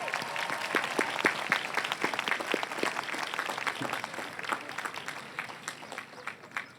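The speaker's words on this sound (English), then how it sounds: "I ask the class of 2019 to give them a round of applause." A large audience at the 2019 LMU graduate commencement claps in dense, sustained applause that thins and tapers into scattered claps near the end.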